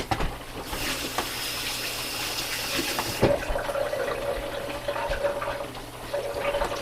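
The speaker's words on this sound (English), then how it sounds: "I'm going to wash my hands." Tap water runs steadily into a sink while hands are washed in a home kitchen, a continuous close splashing hiss with a brief clunk partway through as the flow shifts.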